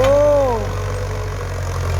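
A Ford farm tractor engine runs with a steady low rumble throughout, loud and close, with a brief rising and falling tonal sweep near the start.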